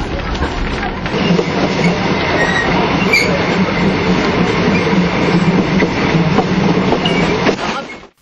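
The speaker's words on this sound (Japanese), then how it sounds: "この列車はケアンズからキュランダまで33キロを結ぶ観光専用列車です。" A Kuranda tourist train on the 33 km line from Cairns through Barron Gorge National Park rumbles steadily throughout, with a continuous close wheel-and-carriage roar and faint rail clatter that cuts off at the end.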